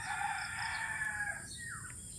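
A rooster crows faintly in the distance in the rural countryside over a steady outdoor hiss with high insect-like buzzing.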